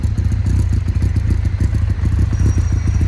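A Yamaha XJR1300 motorcycle engine runs steadily close by, with a loud, even, throbbing low exhaust pulse fitted with removable baffles, continuous and without talk.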